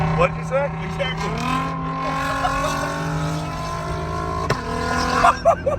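Heard from inside, an Audi RS3 with full bolt-ons, a big turbo and basically no exhaust drones loudly, its engine pitch climbing and holding as people talk over it.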